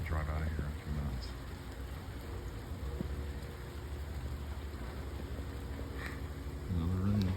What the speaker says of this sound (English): Another rain. Not in the forecast after the watering.